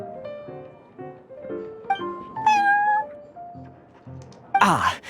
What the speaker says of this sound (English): This is the Cat's Tail after all, so I thought having a cat take care of our new customers would be quite a nice touch.